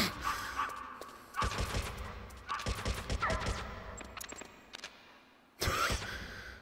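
Gunshots crack in Metal Gear Solid during a sniper fight, several sharp, separated blasts spaced irregularly across a quiet background, fairly loud against near silence between them.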